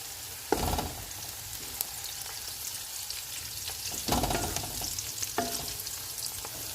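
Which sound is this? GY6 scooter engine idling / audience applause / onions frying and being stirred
onions frying and being stirred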